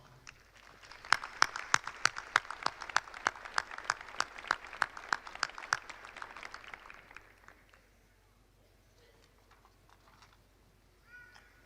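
Graduation audience at the LSUA spring commencement breaks into steady applause, dense rapid clapping from a large crowd for about seven seconds before fading to scattered claps and quiet room noise.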